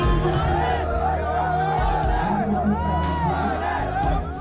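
Crowd of tourists gathered at a busy holiday destination around New Year, a dense hubbub of shouting, whoops and overlapping chatter, loud and continuous throughout.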